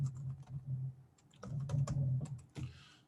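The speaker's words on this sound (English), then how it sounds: "I'll just type in real estate investors." A computer keyboard is typed on at close range in a short run of light, uneven key taps as a search is entered, with a slightly louder final stroke.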